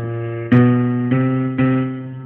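Three sustained piano chords from a blues riff starting a whole step below the root, struck about half a second apart, each ringing out and slowly fading, with a bluesy low-register voicing.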